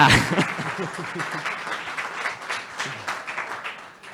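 A crowd applauds at a physical security village talk during a hacking conference, clapping starting loud and gradually thinning out over a few seconds, with faint voices mixed in.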